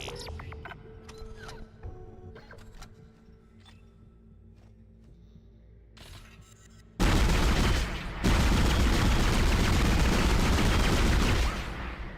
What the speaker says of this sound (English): I mean, it definitely has a high rate of fire.